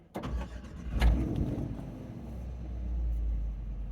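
A vehicle engine cranks and catches on an early-morning departure from Van Horn, Texas, with a sharp burst at the start and then a steady, close low rumble that builds as it idles.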